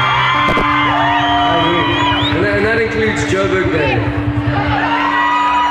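A live concert crowd of thousands at a Parlotones show at a casino venue whoops, yells and cheers loudly and continuously, with someone speaking over the roar from the stage.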